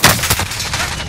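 Gunfire in Call of Duty: Modern Warfare, a loud close burst of several rapid shots with a booming crack at the start, then a dense rattle of fire continuing under the blast.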